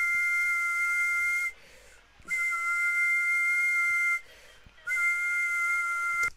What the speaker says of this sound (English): She's whistling with her tongue.